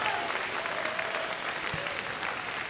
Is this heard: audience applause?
yes